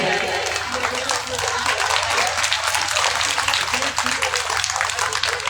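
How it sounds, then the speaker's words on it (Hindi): An audience at a Bhagavat Katha religious discourse in Gabhana, Rampur claps, a dense wash of applause that holds steady throughout, with voices also audible. "ताली क्यों नहीं?"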